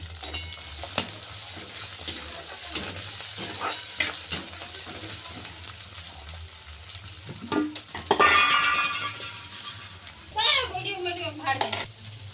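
Peas, peanuts, potatoes and eggplant tipped into a hot frying pan, a steady sizzle swelling loudly partway through, with someone talking and a voice nearby.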